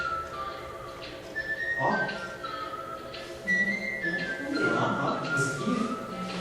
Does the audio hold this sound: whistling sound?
yes